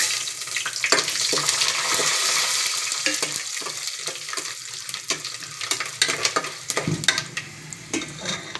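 Whole cinnamon, cloves and fennel seeds fry in a pan while being stirred, making a close, bright sizzle broken by repeated scraping strokes and small clicks.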